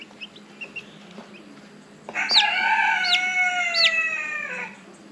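A rooster kept by teenage chicken raisers gives one loud, drawn-out crow close by, preceded by a few faint clucks and soft background noise.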